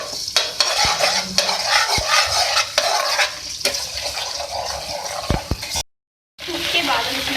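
Ginger garlic paste frying in oil in a pan, a steady sizzle broken by repeated scrapes and knocks of a spoon stirring, with a short dropout near the end.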